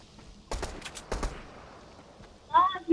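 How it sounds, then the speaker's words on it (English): Sniper gunfire in the Fortnite video game, a couple of sharp cracking shots in quick succession within a few seconds, with game sounds chiming afterward. "Someone's sniping me!"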